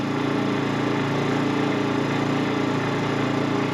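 WEN 56235i inverter generator running in eco mode at about 3,500 RPM with a tire warmer plugged in, a steady, loud, close mechanical drone with fine even vibration throughout.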